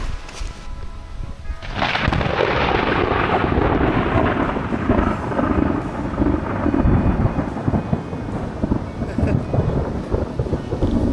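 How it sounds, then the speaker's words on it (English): During a storm at a canoe campsite in the woods, after a quiet start, a loud, close crack of thunder breaks into a long, deep rolling rumble that fills the rest of the clip, with rain beneath. "There's the flash, and then the thunder is almost immediate"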